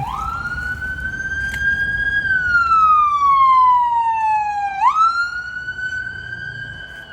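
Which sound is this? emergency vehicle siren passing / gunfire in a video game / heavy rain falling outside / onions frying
emergency vehicle siren passing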